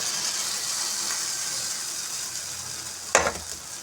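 Masala idli batter sizzles in a tadka pan over hing and a curry leaf, a steady close hiss with a brief, sharper splash of sizzling near the end as more batter hits the hot pan.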